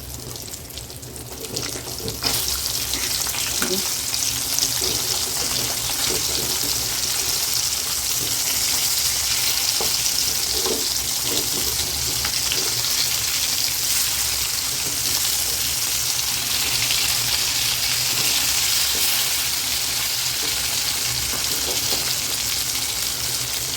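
Fish frying in a pan for a fish fry, a continuous loud hiss and crackle of hot oil that holds steady throughout, close by and with no voices.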